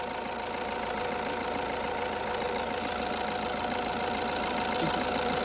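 An Alfa Romeo Giulietta engine runs at idle after faults are cleared, with a constant rough mechanical rattle and knock and no voices.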